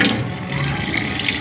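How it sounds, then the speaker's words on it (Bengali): Two cups are rinsed under a running kitchen tap, a steady loud rush of water splashing into the sink close by, continuous for the whole moment with no talking. "দেখো এখন দুটো দুটো কাপ ধুতে হবে।"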